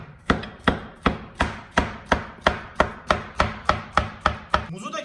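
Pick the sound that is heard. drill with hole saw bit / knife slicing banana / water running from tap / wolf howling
knife slicing banana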